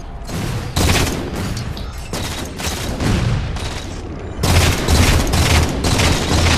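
Rocket explosions and heavy gunfire in a Halo 4 multiplayer match, loud and sustained, with repeated booming blasts and rapid fusillades layered over one another for several seconds.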